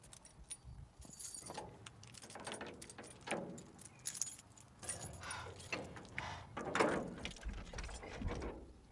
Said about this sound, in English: My keys gonna open the door.